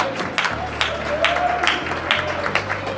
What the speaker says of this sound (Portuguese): Pode dar glória a Deus com as palmas, igreja.